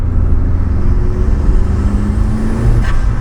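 A 1.8T engine swapped into a Mk1 VW Caddy pickup pulls gently in third gear from about 25 mph, a loud, steady, low interior drone with a slowly rising engine tone.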